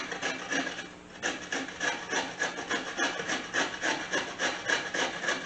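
Purple cabbage being grated on a box grater, a steady run of rough rasping strokes in a quick repeating rhythm, close and fairly loud with no talking.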